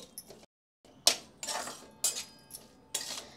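A spoon clinks and scrapes against a pot while stirring chopped green coriander into a Bombay duck (bombil) dish, in several distinct bursts separated by short pauses, fairly close and with no talking.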